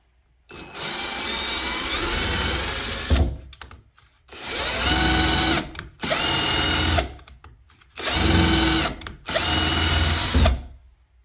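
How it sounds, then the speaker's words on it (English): A Deko pink 20V cordless drill whirs in four separate bursts while driving screws, each running a few seconds and stopping abruptly, close to the microphone with brief quiet gaps between. "That Deko drill drove those screws easier than I thought."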